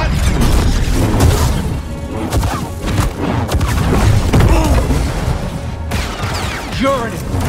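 Blaster fire in a Star Wars Jedi Survivor boss fight against Dagan Gera, with rapid loud bursts and crashing impacts over busy battle noise, and voices speaking in between.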